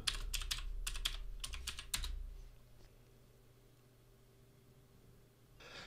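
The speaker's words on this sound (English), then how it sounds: "Type in my password." Password being typed on a Mac computer keyboard: quick bursts of key clicks for about two seconds, then near silence with a steady low hum.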